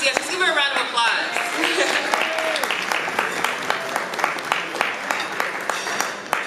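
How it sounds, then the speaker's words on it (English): An evening audience applauds a guest speaker being introduced, dense clapping from many hands with a few whoops early on, then sparser individual claps as it fades, with a voice speaking over parts of it. "let's give her a round of applause"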